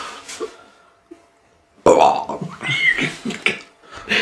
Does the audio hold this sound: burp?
yes